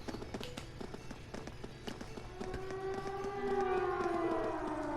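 A siren wails from a fort in the video game Trails of Cold Steel, rising in over busy game sounds and holding a steady, slowly falling wavering tone that grows louder toward the end.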